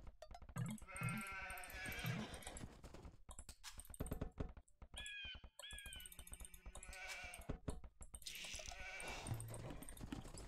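Sheep bleat repeatedly in a German Minecraft-style game challenge with in-game time limits, the calls clear and close in short bursts, mixed with rapid computer keyboard typing and clicking; no talking.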